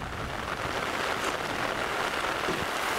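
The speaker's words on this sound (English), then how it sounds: "It's just a couple of minutes of rain." Steady rain pours down at a camp on the summit of Ambrym volcano, a dense, even hiss of drops on surfaces, loud and continuous with no voices.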